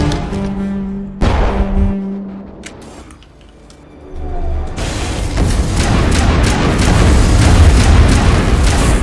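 A bomb detonates in the Mass Effect 1 video game, a loud deep boom that swells into a sustained rumbling roar after a brief lull, with earlier game tones and thuds leading in.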